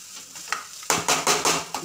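Poha being mixed in a pan, quiet at first, then a run of rhythmic scraping and clinking strokes of a spoon against the metal, five or six close, brisk passes.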